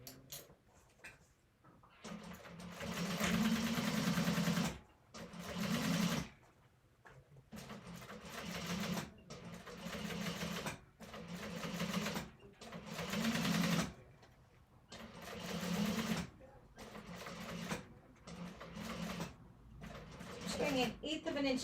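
A sewing machine runs a second line of stitches through thick vinyl in repeated bursts of a few seconds each, separated by short pauses, steady and close.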